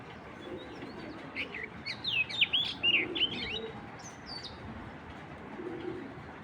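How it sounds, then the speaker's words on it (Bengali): Pigeons cooing and chirping, including a large chocolate grizzle pigeon, with bright calls clustering in the middle over a steady low background murmur of coos. "বিগ সাইজের খুব সুন্দর একটা কবুতর"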